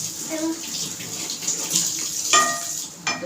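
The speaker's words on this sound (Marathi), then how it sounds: "नळ का चालू करते" Water runs from a kitchen tap in a steady gush during cooking with potato and semolina, with a few faint clinks and shifts in the flow.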